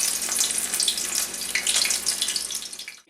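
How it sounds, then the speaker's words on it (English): Bacon-wrapped tempura shrimp dipped in batter frying in hot oil, a steady, dense crackling sizzle that stays loud and even throughout and cuts off abruptly at the end. "Dip it into your tempura batter and then right into your hot oil"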